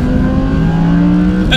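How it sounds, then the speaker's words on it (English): A naturally aspirated V10 engine drones loudly and steadily on a road along the west coast of Norway, holding a sustained tone before a brief, higher burst of sound at the very end. "On roads that we can finally unleash this fabulously naturally aspirated V10 engine."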